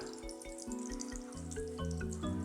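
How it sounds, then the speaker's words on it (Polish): Water from a small waterfall in an indoor paludarium spills steadily into a little pond, a close, continuous trickle with a low hum running underneath. "Leje się woda. I dopływa, dopływa do jeziorka. Tutaj wodospadzik też całkiem zacnie."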